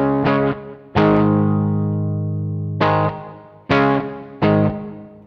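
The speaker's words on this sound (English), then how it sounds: "and then we add the reverb" Electric guitar run through a Tech 21 Fly Rig 5 v2 with digital reverb and a touch of delay, a few struck chords and notes ringing out loud and sustaining into a long reverberant tail between attacks.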